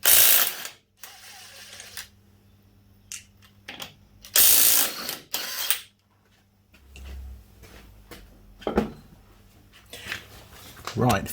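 A ratchet works at the front right wheel of a Suzuki Kingquad ATV, giving close bursts of rapid clicking and mechanical rattling separated by pauses, with brief clunks and some background noise.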